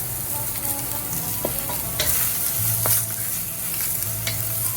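Mushrooms frying and cooking down in a pan alongside peppers for kung pao tofu, a steady close sizzle with periodic scraping stirs and a low hum running underneath.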